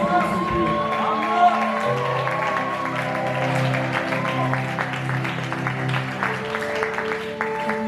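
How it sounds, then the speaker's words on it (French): At a Sunday church service, the congregation keeps up a continuous patter of clapping and cheering over ongoing music, with voices mixed in. "Vos acclamations sont faibles."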